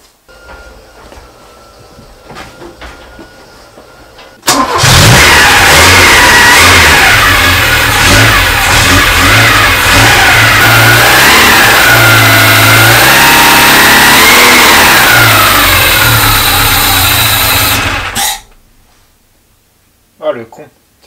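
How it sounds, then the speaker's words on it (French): A Peugeot 104 engine cranks and catches after a quiet stretch, then idles and revs loudly and steadily for about fourteen seconds, with rising and falling rev sweeps, before cutting off abruptly into near silence. "tourner un peu à vide pour que la pression d'huile monte et après je vais la démarrer."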